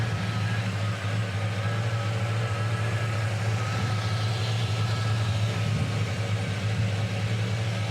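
A 1957 Chevrolet Bel Air with a carbureted 350 V8 and four-barrel carb idling smoothly, a steady low engine hum heard close and unbroken throughout.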